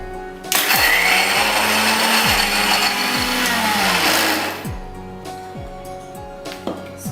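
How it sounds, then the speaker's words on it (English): A mixer grinder whirs loudly as it powders cream-filled Oreo biscuits, its motor pitch stepping down in repeated surges before easing off and settling at a lower hum near the end. "Now I'm going to grind it and make these biscuits in a powdered form."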